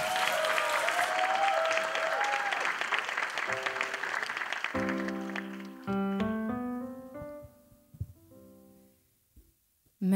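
A hall audience claps loudly for a child contestant at a 2018 Francophone song competition in Niš; the applause thins out and gives way to soft instrumental music that begins playing and fades.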